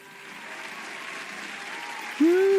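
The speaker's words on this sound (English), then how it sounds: "And the crowd goes wild." A crowd applause sound effect plays during a tabletop role-playing session, a steady wash of clapping that grows louder, then a voice cuts in near the end.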